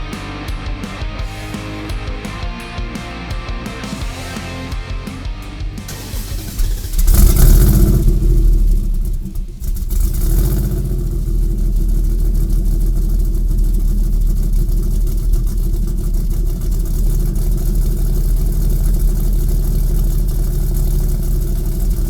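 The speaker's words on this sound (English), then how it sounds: "attention to all the detail when it comes to firing one of these engines up" A prototype SEMA build car's engine fires up with a sudden loud burst, then settles into a heavy, steady idle that drones loudly and continuously close by.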